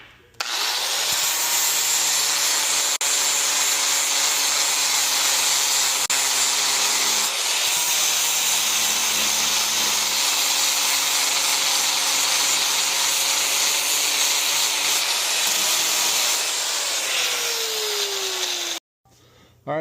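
A power tool blends and smooths welds on the fabricated radiator relocation parts for a pro street blown Corvette, running loud and steady with a continuous rough grinding rub for almost the whole stretch, then cutting off sharply near the end.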